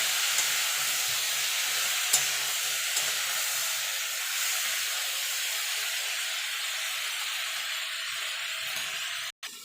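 Onion greens with cauliflower and potato frying in a covered pan over low-to-medium gas, giving a steady, even sizzle and hiss that runs unbroken throughout, with faint stirring clinks and no talking.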